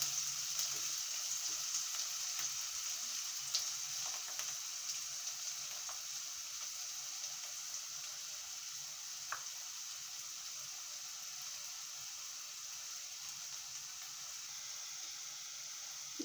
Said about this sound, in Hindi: प्याज जब तक थोड़ा सा लाल नहीं हो जाता तब तक इसको थोड़ा सा भूनना पड़ेगा